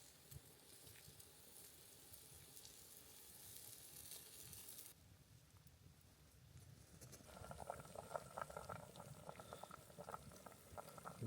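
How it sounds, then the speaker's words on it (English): Potatoes boiling in a pot set over campfire coals at a bush camp, a steady soft bubbling and hiss that carries on alone throughout, with a brighter sizzling crackle joining in the later part. "The potatoes are boiling nicely."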